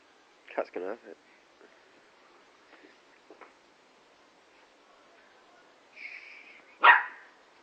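A dog gives a few sharp barks, a quick pair early on and a louder yelp near the end, with quiet stretches between.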